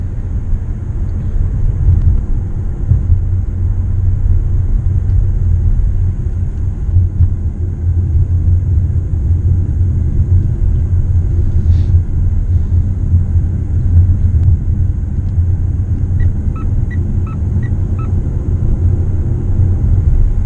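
A Mitsubishi Outlander PHEV driving on a road over an overpass, a steady loud low cabin rumble of tyres and road noise with a faint electric whine and a brief soft chime near the end.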